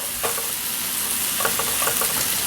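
Shallots and mushrooms sweat in a hot pan with a steady, close sizzle, broken by a few soft stirring scrapes.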